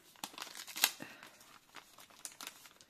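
Christmas gift wrapping paper crinkles and tears in quick, uneven rustles as a present is unwrapped, fairly quiet and close, with no voices.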